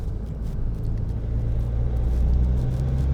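A Ford C-Max engine accelerating at night, a low steady rumble that swells gradually louder over a few seconds, heard from inside the car.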